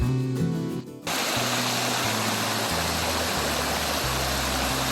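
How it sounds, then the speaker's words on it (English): Continuous rushing water of a small waterfall on the Towab trail in Lake Superior Provincial Park, steady and close, with a brief different sound at the start and a low hum underneath. "This is the sound I heard just a moment ago. This little waterfalls here."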